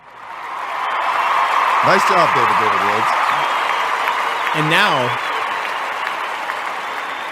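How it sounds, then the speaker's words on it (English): A canned applause sound effect fired from a soundboard during a sports podcast, a long, steady wash of clapping and cheering that runs the whole stretch while someone speaks briefly over it. "will applause work?"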